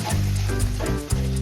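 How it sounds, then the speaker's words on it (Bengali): Spices frying and being stirred in a pan with a little water and turmeric for a Bengali crab curry, a steady close sizzle with a few scraping bumps and no talk. "সমস্ত মশলাগুলিকে আমি খুব ভালোভাবে কষিয়ে নেব যতক্ষণ না সম্পূর্ণ মশলাটি থেকে তেল ছেড়ে দেয়"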